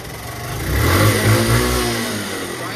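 A car engine that will not start properly revs up and sags again, loud and close, with a steady mid-pitched roar swelling then easing off.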